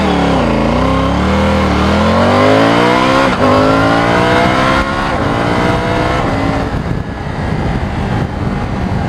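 A Triumph Tiger 900 Rally Pro motorcycle pulls away from a standing start, its engine note climbing loudly and steadily, breaking briefly at gear changes before pulling hard again, with no talking.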